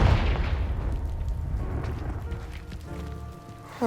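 A Confringo fire spell in the game Hogwarts Legacy blasts apart a pile blocking a stairwell. It erupts in a loud, deep boom that settles into a rumbling, crackling tail, with a short sharp burst at the very end.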